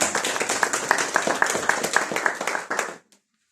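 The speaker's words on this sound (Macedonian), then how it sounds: "Аплауз." Crowd applause fills a Christmas church service, a dense burst of clapping with a few sharper claps standing out, held steady for about three seconds before stopping abruptly into silence.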